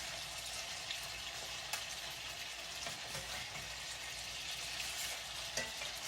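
Steady, close-up sizzling of hamburger steaks frying in a pan, a constant hiss with occasional pops, no voices.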